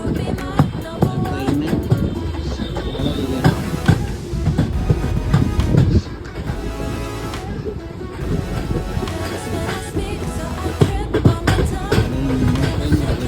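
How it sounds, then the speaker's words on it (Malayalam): A passenger train on the Kozhikode to Goa route rolls along slowly with a continuous rumble and wheel clatter, some murmured voices underneath. "ട്രെയിൻ പിന്നെ കുറച്ച് സ്ലോ ആയിട്ട് പോകുന്നത്"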